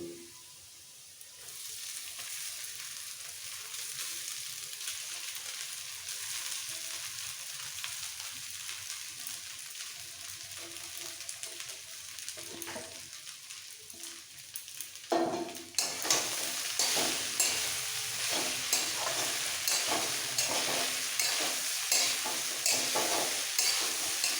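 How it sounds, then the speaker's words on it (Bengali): Soaked flattened rice added to onions frying in a pan for poha, a quiet sizzle that suddenly turns louder and brighter partway through, with continuous stirring and scraping close by. "এবার দিয়ে দেবো এর মধ্যে ধুয়ে রাখা চিড়েগুলো"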